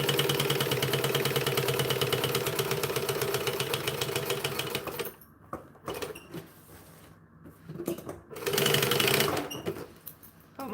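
A sewing machine runs steadily while stitching along the bottom edge of a fabric project, a continuous close mechanical whir that stops partway, followed by quieter handling noises and a brief second burst of stitching.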